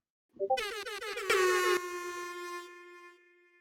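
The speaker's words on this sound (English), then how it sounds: "Making air horns when you sub." Air horn sound effect with a rapid series of stuttering blasts that merge into a long, bright, blaring tone and then fade, heard alone.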